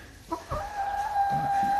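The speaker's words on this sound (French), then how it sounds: "Touton, ça a toujours été notre plus petite poule." A small hen called Touton, the smallest in the flock, gives a few short clucks followed by a steady, sustained high call, close by with a low background murmur.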